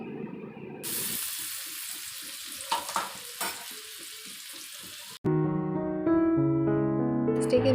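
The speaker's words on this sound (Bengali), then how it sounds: "বেশ কিছু সময় ধরে ভেজে নিচ্ছি" Chopped onions sizzle and get stirred in a hot pan for a prawn malai curry, a steady close frying hiss with scraping stirs, before a sudden switch to music.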